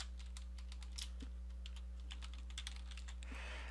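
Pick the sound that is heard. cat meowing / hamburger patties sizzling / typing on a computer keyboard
typing on a computer keyboard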